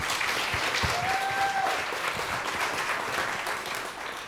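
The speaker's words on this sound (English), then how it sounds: "round of applause." Sustained applause from an audience at a journalism talk, dense steady clapping from a sizeable crowd, fairly loud and even, with a brief whistle-like tone briefly audible early on.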